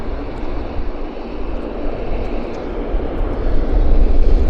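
An Avro airliner taxis at Vancouver airport with a steady, loud engine roar that swells slightly toward the end. No voices are heard.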